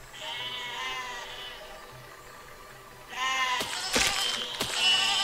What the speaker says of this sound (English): And just kill all these sheep.